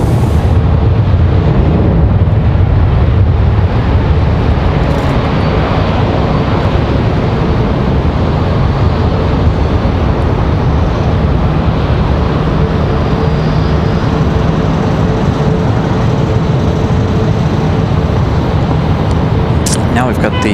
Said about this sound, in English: Now we've got the A320 ready to go.